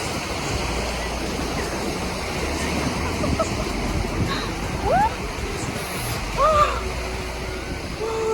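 Steady broadband roar of sea surf washing in at Bournemouth, with a few faint birdlike chirps and brief higher sounds over the constant rush of water.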